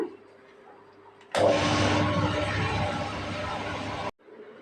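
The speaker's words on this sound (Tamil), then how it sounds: "அதே தண்ணியை கிரைண்டரில் சேர்த்து" A wet grinder running on soaked sorghum for dosa batter starts abruptly and churns with a steady, loud mechanical whir for about three seconds, then cuts off sharply, leaving low room noise.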